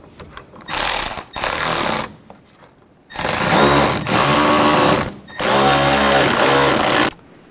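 A power tool whirs in several bursts of a second or two each, driving screws into a radiator cooling fan assembly on a 2009-17 Chevy Traverse, loud and close with short pauses between runs.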